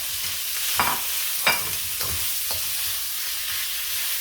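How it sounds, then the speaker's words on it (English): Beef sausage for fried rice fries in a pot, a soft steady sizzle with several brief scraping stirs spaced about half a second apart. "So I'm going to take my beef sausage and I'm going to put it in there."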